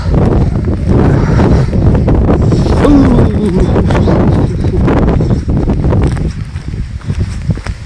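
Strong wind buffets the microphone at a waterside campsite by a canal, producing a loud, rumbling, uneven roar with faint rustling underneath, easing slightly toward the end.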